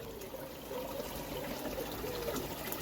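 Water poured into a koi fry tank during a garden water change, a steady close trickle and splash running without pause, with no talk.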